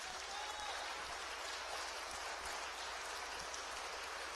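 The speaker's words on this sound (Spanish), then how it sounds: "Dele esa ofrenda de palmas." A church congregation applauds in a steady, fairly faint wash of clapping that lasts the whole short stretch without a break.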